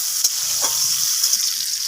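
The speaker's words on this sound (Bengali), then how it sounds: "সেই আমটাকে আমি ফোড়নের সাথে নাড়াচাড়া করে ভেজে নিই।" Medium strips of mango are stirred and fried with tempering spices in a pan, producing a loud, continuous, close-up sizzle with faint scraping stirs.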